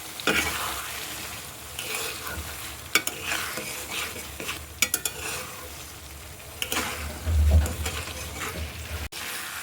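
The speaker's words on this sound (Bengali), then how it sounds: "ভালো করে একটু ভুজে দিই। আমি কয়েকটা কাঁচা ঝাল দিয়ে দিচ্ছি।" Prawn head fat with garam masala and green chillies fries in a pan, a sizzle broken by repeated scraping and stirring strokes of a spoon against the metal, close and fairly loud.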